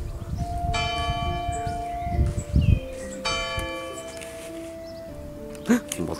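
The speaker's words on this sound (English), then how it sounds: "Right, you can hear the bells going off." Local church bells ringing outdoors, two clear series of sustained tolling strokes at moderate distance, with wind rumble and brief nearby sounds underneath.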